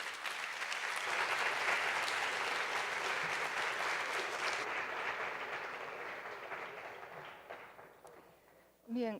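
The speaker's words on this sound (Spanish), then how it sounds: "Un cordial aplauso, maestro." Sustained applause from a seated audience honoring a Mexican writer at a lecture event, steady and full for about eight seconds before fading, with a brief voice at the end.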